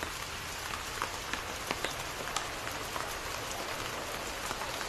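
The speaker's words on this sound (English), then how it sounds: "The rain is passing. I hear it ceasing its symphony upon the earth." Rain in the video game Wuthering Waves, a steady soft patter of drops on a surface with scattered sharper droplet ticks, fairly quiet and even throughout with no talk.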